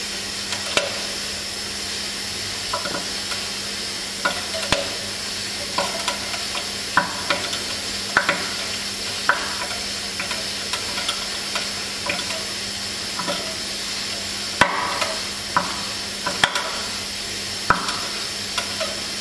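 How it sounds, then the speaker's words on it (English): Steam injected into a water-filled pipe produces a constant loud hissing rush punctuated by repeated sharp knocks and bangs of water hammer, irregularly spaced, with one heavier crack near the middle. "keep our ears open to the appearing water hammers"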